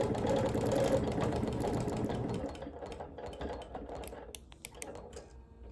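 A sewing machine quilts a border print at high speed, its needle chattering in a fast, dense rhythm up close, then slowing into sparser, uneven stitching bursts toward the end.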